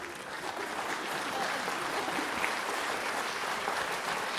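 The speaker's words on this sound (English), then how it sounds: "It's okay, you can clap." An audience at a spring orchestra concert claps for students from the honor orchestra. The applause is a sustained, even patter from a room full of people, and it stays steady for several seconds.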